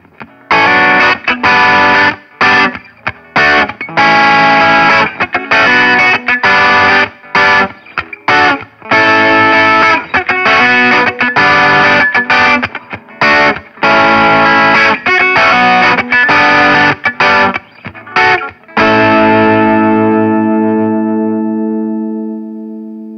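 A Framus Panthera Pro electric guitar on its bridge pickup plays a run of chopped, loud riffs with effects, ending on a sustained chord that rings out and fades.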